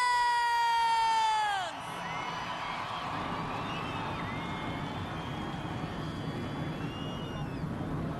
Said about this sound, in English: The engines are fired.